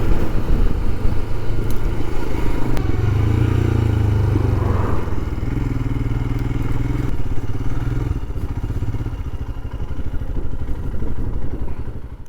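A Royal Enfield Scram 411 motorcycle is ridden on a UK road, its engine droning steadily and loudly throughout with a little clatter and some wind rush.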